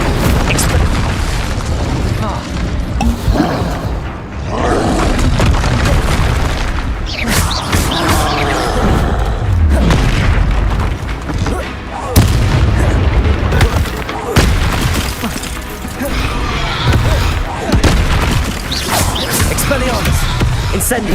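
Blasting and fire-spell explosions from a Harry Potter wizarding duel come in dense, loud booms and crackling bursts that run almost nonstop, with shouted voices mixed in.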